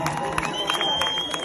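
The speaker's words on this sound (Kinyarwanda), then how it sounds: "gukomera amashyi menshi" A live concert crowd in Bujumbura cheers and claps in a dense, continuous wash of noise, with scattered claps and raised voices mixing into the roar for the whole stretch.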